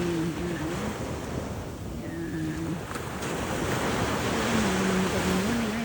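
Ocean waves breaking on a beach in the morning, a steady wash of surf with wind noise on the microphone and faint voices now and then.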